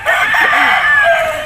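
A gamecock crows loudly and close at the Bocaue pet market, one full drawn-out call that fills the moment.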